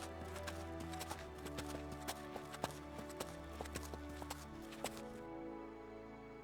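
Hooves of wild and semi-wild horses clop across the Tibetan grasslands in a loose, repeating rhythm, moderately close, set under a droning musical bed that thins out near the end.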